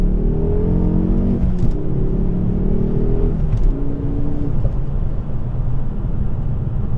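A Ford Focus ST engine, stock exhaust, revs up and settles in a few rising surges, loud and close, with a brief sharp exhaust pop between revs.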